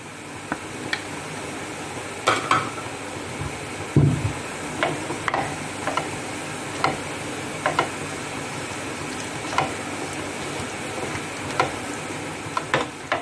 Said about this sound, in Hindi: ज़ीरा हमारा थोड़ा सा सिज़ल करने लगेगा